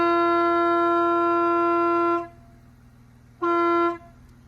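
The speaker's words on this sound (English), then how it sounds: "train horns on Amazon" An aftermarket train horn mounted on an off-road vehicle at a camp spot blasts loud and steady for about two seconds, falls silent, then gives a second shorter blast.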